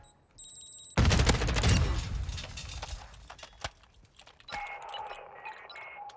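Loud, close shotgun blasts in the shooter game MW 2.0, a heavy burst of booming shots followed by scattered sharper reports and clatter, with electronic game tones near the start and end.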